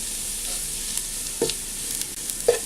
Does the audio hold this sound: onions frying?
yes